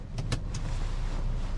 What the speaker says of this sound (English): All right, let's start the car. Start the engine here